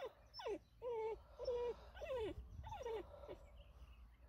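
A dog whimpers in a series of high, sliding whines, about five plaintive cries in quick succession, fairly close and fading slightly at the end.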